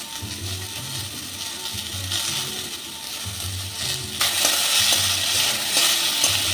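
Gentle frying sizzle of peas and spices under a looping music track, growing louder and brighter partway through as the pan is stirred.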